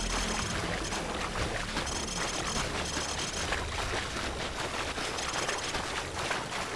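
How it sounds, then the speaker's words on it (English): An approaching vehicle in Call of Duty Modern Warfare 3, a steady broadband engine and road rumble that runs continuously at moderate level, mixed with a noisy, washy background. "Vehicle's approaching."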